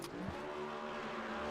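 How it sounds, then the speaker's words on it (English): An ANZCAR Cup race car at Las Vegas burning out its tyres, a steady engine drone with squealing rubber, held continuously for a short stretch. "Absolutely burning the tyres out and enjoying this one."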